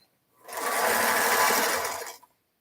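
A sewing machine stitches fabric scraps in one continuous run of about a second and a half, a fast, even whirring hum that starts and stops cleanly with no talking over it.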